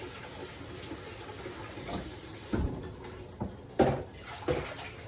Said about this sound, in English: Dump the water out of that pot.